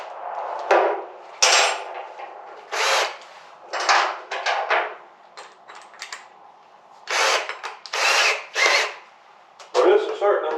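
A power drill bores into the locked gas cap of a junkyard Honda Ruckus scooter in short, loud bursts, stopping and restarting with brief pauses between runs.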